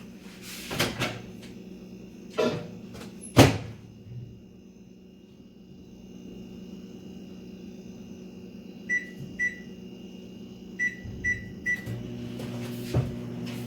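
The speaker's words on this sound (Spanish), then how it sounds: "Vamos a ponerlo en el microondas." Microwave oven heating whipped cream in a home kitchen: door clicks and thumps at the start, then a low steady hum with a run of short beeps near the end, no voices.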